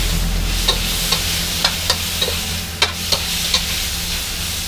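Crispy pork and holy basil stir-fry in a wok at a local food stall, with a steady loud sizzle and regular sharp clinks of the spatula against the metal.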